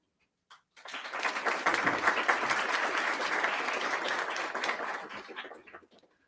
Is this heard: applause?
yes